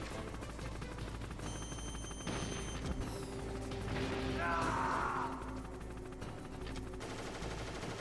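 Strafing-run gunfire in the video game Metal Gear Solid, a rattling burst swelling to its loudest midway, mixed with game music and effects under a steady background.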